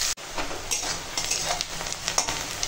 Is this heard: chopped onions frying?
yes